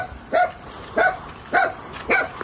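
A small dog barks at a steady pace, four sharp, fairly close barks spaced about half a second apart, heard alone over faint background in a rural Vietnamese home setting.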